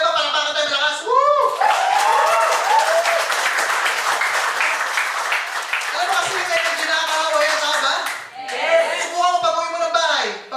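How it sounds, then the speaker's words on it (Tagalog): An audience at a network marketing talk claps loudly and steadily for several seconds, with whoops and shouting voices rising over the applause before it trails off. "Palakpakan tayo, malakas!"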